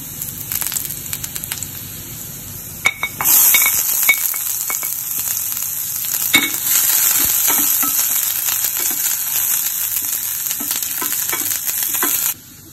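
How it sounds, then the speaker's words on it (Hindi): Onions dropped into a pan and fried while being stirred for a Himachali curd-based tadka dish, a steady close sizzle that jumps louder partway through, with scattered clinks and scrapes of the spoon, then stops abruptly. "अब हम इसमें डालेंगे प्याज"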